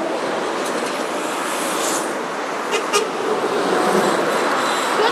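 A truck horn sounds at a truck-spotting gathering in Drachten, Netherlands. It gives a couple of brief toots over a steady wash of roadside traffic noise, loud and fairly near.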